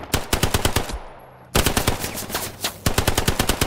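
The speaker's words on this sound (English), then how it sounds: "I'm getting shot at." Automatic weapon fire in the World War II shooter Hell Let Loose rattles in rapid, loud bursts, a pause near the middle and another short break before the firing resumes.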